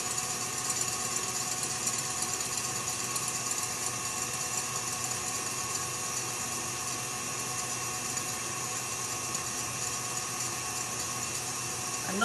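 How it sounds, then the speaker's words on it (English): An electric whisk mixes pumpkin chiffon cake batter at medium speed, a steady, even motor whir with a faint tonal hum that holds unchanged and close throughout, with no voices. "As I'm whisking on a medium speed, I'm not going to go higher than that."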